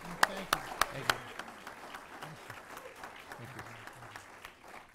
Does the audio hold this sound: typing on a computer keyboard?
no